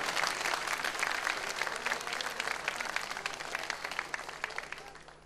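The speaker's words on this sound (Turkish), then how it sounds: "sizlerden bir alkış istiyorum ben değerli canlar" Studio audience applause on a Turkish television program, a dense, steady wash of many hands clapping close and loud for the full length, easing slightly toward the end with a few sharper individual claps standing out.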